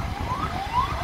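An ambulance siren wails with rising sweeps through road traffic, steady and moderately loud over a low rumble of engines, with no talking.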